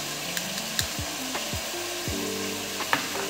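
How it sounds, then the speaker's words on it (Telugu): Goat meat curry is stirred in a pan, with a quiet steady sizzle under a series of spaced wooden scraping strokes and a few soft knocks, close and without speech. "మేక కూరను ఈ విధంగా కలుపుకోవాలి. ఇలా 5 నిమిషాల పాటు మనం కలుపుకోవాలి."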